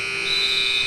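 A basketball game buzzer sounds at the end of a quarter in a sixth-grade girls' school gym game, a steady electronic tone that holds loudly through the short span with faint background noise.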